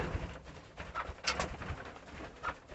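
Soft calls and coos come from caged pet parrots nearby, fairly faint, repeating irregularly over a low background.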